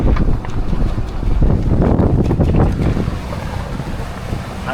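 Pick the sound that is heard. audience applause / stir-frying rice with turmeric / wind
wind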